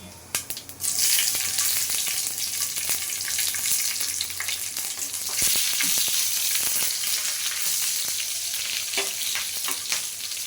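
Chillies dropped into hot oil, with the gas turned off, crackle and sizzle steadily and loudly for about ten seconds, with occasional sharper pops over a dense hiss.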